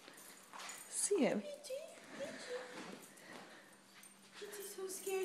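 A toy poodle puppy gives low growls and soft, thin whimpers in short bursts, close by, mixed with the voices of an adult and someone talking.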